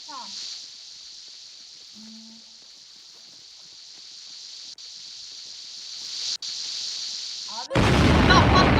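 A bomb blast in the Roblox game Epic Minigames arrives near the end as a sudden loud broadband burst that follows a long, steady electronic tone.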